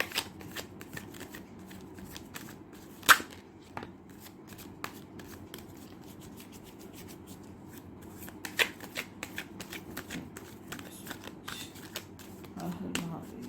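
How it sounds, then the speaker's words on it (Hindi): Playing cards are shuffled and drawn by hand, with a run of crisp riffling flicks and sharper snaps at intervals, close and fairly quiet, with faint talk in the background. "चलिए और कार्ड निकाल देते हैं।"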